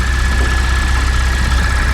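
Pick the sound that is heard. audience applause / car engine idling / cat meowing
car engine idling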